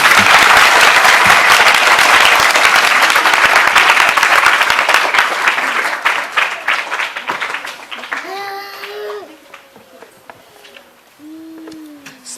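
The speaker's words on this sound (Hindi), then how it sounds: "एक बार जोरदार तालियां।" A school audience bursts into loud, sustained clapping that gradually thins out and fades over several seconds, after which a few scattered claps and voices remain.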